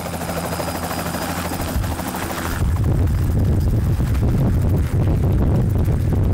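Steady, loud rotor-like thumping with a broad roar that grows stronger partway through, a real helicopter running close by at a paintball field event.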